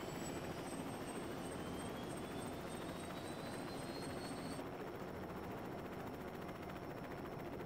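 A helicopter in the video game Lego City Undercover gives off a steady, loud rotor and engine drone that runs without a break, with a high whine that shifts partway through and no voices.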